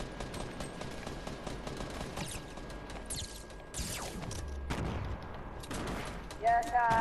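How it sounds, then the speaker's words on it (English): Scattered Fortnite Battle Royale gunshots crack repeatedly at moderate distance, arriving in irregular clusters amid game ambience and occasional voices. "Are they shooting you? Yeah, yep, they're shooting you."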